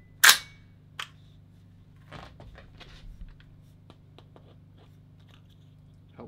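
A Palmetto State Armory 300 Blackout AR pistol firing cheap full metal jacket rounds lets off one loud, close report, followed by a fainter sharp crack and scattered light clicks and handling noises.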